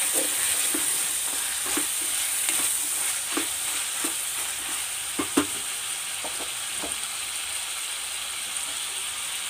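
Onions and tomatoes sauté with a little salt in a pan for onion sambar, a continuous sizzle broken by repeated spatula scrapes and clinks against the pan, close and steady, no voices.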